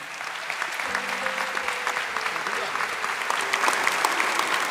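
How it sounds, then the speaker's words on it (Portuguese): A congregation applauds a boy during a Catholic talk on the Jubilee of Mercy, a steady, dense clapping that stays even throughout, with a few voices faintly mixed in. "Pode aplaudir o menino."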